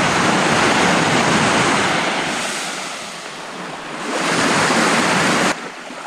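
Waves break and wash onto a Lake Superior beach in Ontario, a loud broad rushing surf that swells, eases and swells again, with wind buffeting the microphone.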